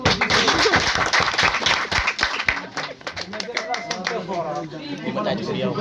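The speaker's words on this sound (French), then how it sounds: "Bravo, applaudissez." An audience in a school setting in Senegal claps together in a dense burst of applause, close and lively, with voices chattering over the clapping.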